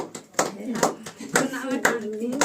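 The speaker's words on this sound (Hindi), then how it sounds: "आप ताली बजाइए" Hand claps come in a steady rhythm, roughly two per second, during a therapy session for disability caused by a brain hemorrhage, and a person talks over them.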